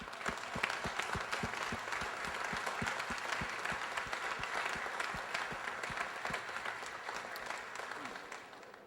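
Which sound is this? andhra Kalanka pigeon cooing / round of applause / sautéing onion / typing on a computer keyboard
round of applause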